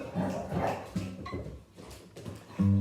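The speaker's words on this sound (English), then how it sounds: "There's the dogs." Dogs bark and whimper in a short burst of yips at moderate distance, the calls repeating every half second or so before a final louder bark.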